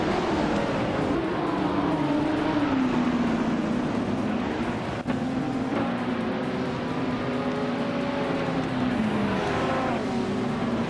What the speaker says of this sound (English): Zooming off in a classic 1971 Porsche 917 LH.